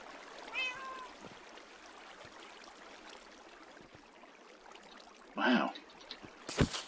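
A Minecraft cat meows once near the start, a clear rising-falling call, followed by a faint water trickle and later a short burst of other game sounds.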